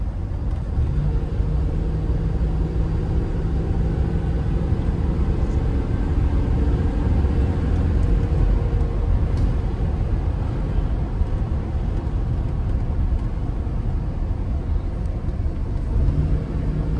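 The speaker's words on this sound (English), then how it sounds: "I'm flooring it and it does not rev down." Engine of a Chevrolet OBS pickup truck under hard throttle while driving, a steady loud low rumble with road noise that holds constant for the whole stretch and does not rev down.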